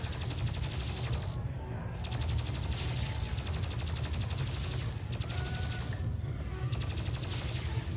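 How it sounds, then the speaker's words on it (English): Rapid automatic fire from the pulse rifle in the game DOOM Eternal, a dense continuous burst of shots over a heavy low rumble, steady and loud throughout. "Can't say no to the pulse rifle"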